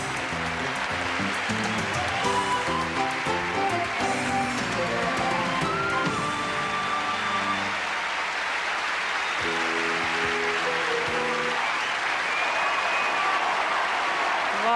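Sustained audience applause follows the Miss Universe 1991 swimsuit competition, a steady wash of clapping from a large crowd that holds at an even level throughout while music plays underneath.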